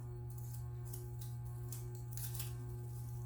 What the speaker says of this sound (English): So I'm just cutting kind of part way to the center is what I'm doing.